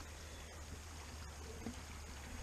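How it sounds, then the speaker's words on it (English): Water in a decent-sized stream running through a small farm property, a steady broadband rush and trickle close by, continuous and alone without any voices. "we have a pretty decent stream that cuts through this property"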